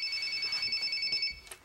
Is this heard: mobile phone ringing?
yes